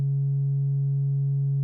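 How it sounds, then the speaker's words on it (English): A pure sine tone pushed through heavily cranked distortion drive, a steady sustained buzz with added harmonics stacked above the fundamental, held evenly and alone with no talking. "Let's add some distortion. Let's just crank it up."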